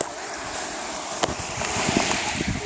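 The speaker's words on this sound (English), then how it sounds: "I found a little private beach" Gentle waves washing onto a small, rocky private beach, a steady broad rush with light wind noise and a few soft splashes near the end.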